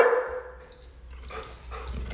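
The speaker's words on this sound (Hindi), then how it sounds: "पागल कुत्ता है, जंगली कुत्ता है।" Golden retrievers barking and yipping indoors, a few short excited barks mixed with whimpering and household noise.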